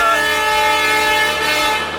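The Rajdhani Express rolls loudly along the tracks near Karwar in Karnataka, with a steady rumble and tonal horn-like whine sustained throughout.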